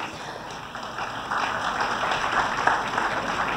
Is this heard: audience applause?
yes